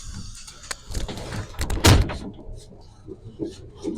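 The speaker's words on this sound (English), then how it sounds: "I'm getting this door open." Someone forcing open a broken door on a British commuter train: a series of knocks and rattles builds to a loud heavy clunk as the door gives, followed by quieter shuffling and clatter in the carriage.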